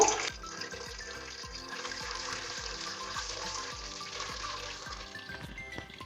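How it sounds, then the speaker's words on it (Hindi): Eggs fry in hot oil in a pan, a soft, continuous sizzle broken by small scattered pops and crackles, close but fairly quiet, with no one talking. "चलें, ऑयल गर्म होता है तो हम अंडों को फ्राई करते हैं।"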